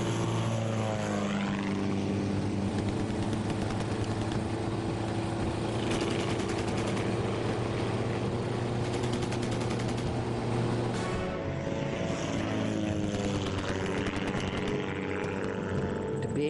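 A vintage propeller warplane flies low over mock trenches, its engine droning loudly and steadily, with bursts of gunfire crackling in the background.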